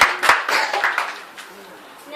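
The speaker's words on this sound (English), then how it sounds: "Please, round of applause for the ministers." Audience clapping for the ministers at a golden jubilee celebration in Southampton: a short burst of claps from a modest crowd that quickly thins to a few scattered claps and near quiet.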